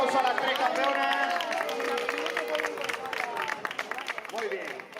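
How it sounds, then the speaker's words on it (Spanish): Applause from a crowd at a popular running race in Cuacos de Yuste, honoring three champion runners, with steady clapping and a murmur of voices over an announcer speaking. "un aplauso a las tres campeonas"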